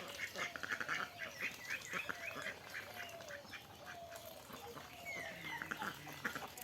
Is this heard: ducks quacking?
yes